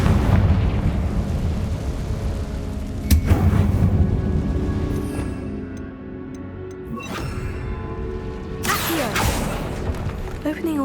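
A Confringo spell in a Harry Potter video game goes off with a loud burst, followed by rumbling debris and crackling, then another sharp blast a few seconds later.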